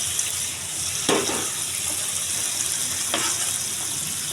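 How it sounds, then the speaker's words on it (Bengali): Prawns dropped into spinach curry frying in a pan crackle in a steady sizzle, with two brief louder bursts as they hit the hot oil, and no talking. "এবার আমি কেটে ধুয়ে রাখা চিংড়ি মাছটা দিয়ে দেবো।"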